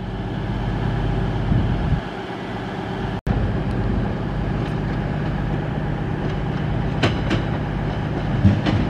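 Avanti West Coast passenger train running from London Euston to Holyhead at Chester station, a steady loud rumble of wheels and engine with faint clicking rail sounds, briefly interrupted by a sharp cut near the middle.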